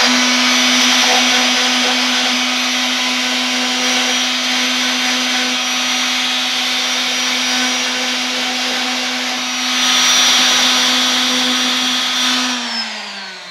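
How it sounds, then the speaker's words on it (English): A power sander works hard grit against a homemade water rocket nose cone, a steady loud motor whine running nearly unbroken and close up, with a brief surge in intensity before it winds down at the end. "So I'm actually going to take a sander to this right now."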